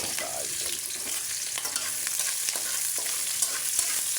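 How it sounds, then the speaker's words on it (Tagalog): Chopped garlic and white onion sautéing in hot oil for pork minatamis, a steady close sizzle with occasional stirring scrapes and no talking. "Tayo ay magigisa na po"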